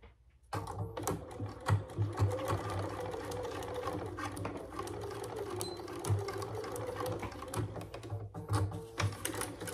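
A sewing machine with an automatic thread cutter stitches a bag case in a steady, close mechanical whir. Fast needle clatter continues without a break and is heard on its own.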